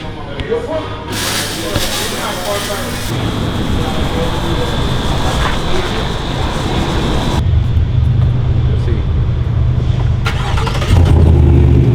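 A 2020 GMC with a 6.2L engine and a Blackwidow Widowmaker custom exhaust rumbles loudly nearby, with a deep idle and rising revs that swell into a roar, while people talk over it.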